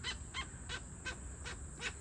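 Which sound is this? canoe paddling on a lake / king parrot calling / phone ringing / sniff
king parrot calling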